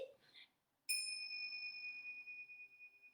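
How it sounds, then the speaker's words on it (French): A soft voice is followed by a single clear chime from small meditation bells. The bright tone rings out close and quiet, then decays slowly over a couple of seconds. "moi j'utilise des clochettes"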